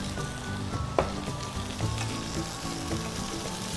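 Blanched carrots browning in a hot pan for Indo-Chinese Kung Pao vegetables, stirred as they fry. A dense, steady sizzle fills the clip, with one sharp knock of the utensil near the start and softer stirring movements after.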